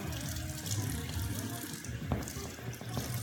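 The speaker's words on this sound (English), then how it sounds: "Just washing all these out." Tap water runs steadily into a sink while paint cups are rinsed out, a continuous broadband splashing hiss with occasional knocks of cups against the basin, close by.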